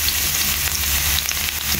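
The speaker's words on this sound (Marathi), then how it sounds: "तेल बरें गरम जाला तर हांव हितून घालता हे फायनली चॉप्ड गार्लीक" Chopped garlic sizzles in hot oil in a pan, a loud, close, continuous crackling hiss with small pops throughout.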